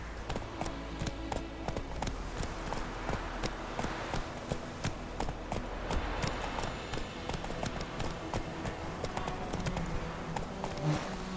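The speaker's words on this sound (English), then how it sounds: "Giddy up. That's it, Roach" A horse gallops steadily in The Witcher 3: Wild Hunt, its rapid clip-clop hoofbeats running continuously at moderate level over a soft game ambience, with no talk.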